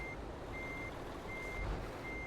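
Intermittent reversing beeps from a truck in Euro Truck Simulator 2, a steady high tone pulsing in a regular on-off rhythm over a constant low engine rumble, with no talking.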